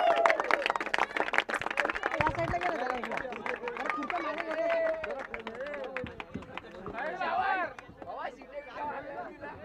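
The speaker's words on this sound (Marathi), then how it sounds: "एकदा जोरदार टाळ्या होऊ द्या" A crowd at a prize distribution ceremony for a local sports tournament claps and cheers for the two referees, with dense applause layered over loud chatter and calls throughout.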